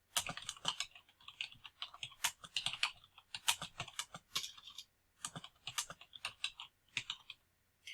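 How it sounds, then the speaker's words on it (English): Someone types on a computer keyboard, a quick, irregular patter of light key clicks in short bursts with brief pauses between them, close and fairly quiet. "Now the student can begin typing."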